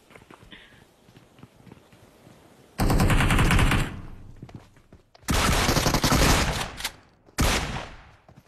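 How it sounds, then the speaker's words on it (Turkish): Pump shotgun fire during a PUBG match, several loud, abrupt bursts of blasts separated by quieter gaps, with near, sharp impacts standing out against faint background noise. "Pompalıya karşı pompalı."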